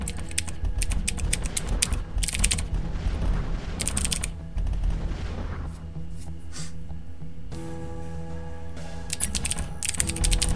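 Rapid, crisp keystrokes on a clicky mechanical keyboard during a typing game, in dense bursts with short pauses, close and clear.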